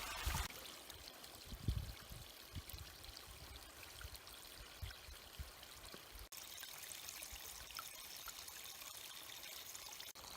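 A creek flows through a snowy winter forest, giving a faint, steady trickling and pouring of water that continues throughout, with a few soft knocks early on.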